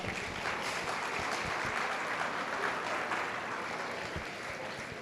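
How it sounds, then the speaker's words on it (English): Steady, moderately loud applause from a crowd at a 2024 youth swine showmanship event, sustained clapping that fills the whole stretch without a break. "Let's give them a round of applause"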